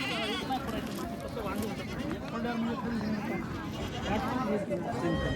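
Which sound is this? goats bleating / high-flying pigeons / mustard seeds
goats bleating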